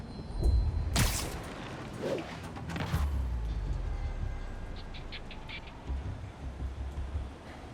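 A subway train in the video game Marvel's Spider-Man on PS4 rumbles steadily with low mechanical drone, creaks and metallic clanks, plus a sharp hit early on and faint high tones later.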